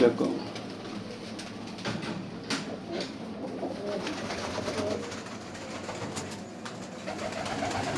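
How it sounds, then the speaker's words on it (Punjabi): Steady low cooing from several adult and young pigeons in a loft fills the background, a continuous murmur with occasional rustles and light clatter nearby. "ਕੁਝ ਬੱਚੇ ਆ ਕੁਝ ਵੱਡੇ ਕਬੂਤਰ ਆ"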